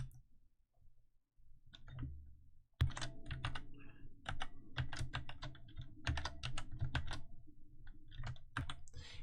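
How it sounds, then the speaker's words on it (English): Rapid typing on a computer keyboard, with steady close clicks of keys after a brief quieter start, and no talking. "So here we're just typing in the formula."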